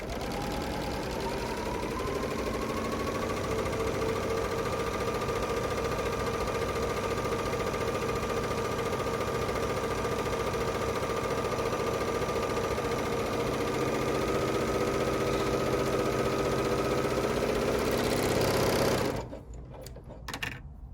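A Bernina L850 overlocker stitches with differential feed set to 0.7, a fast, steady mechanical whir and hum that holds for about nineteen seconds, rising slightly in pitch early on, then stops abruptly.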